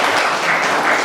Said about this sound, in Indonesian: saya kasih tepuk tangan dulu untuk kelompok yang kedua